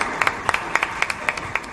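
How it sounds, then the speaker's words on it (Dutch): Applause at a business event, a thin rhythmic run of paired claps, close and fairly sharp, over a short stretch with steady background hiss. "Ik een warm applaus voor meneer Van Cherante."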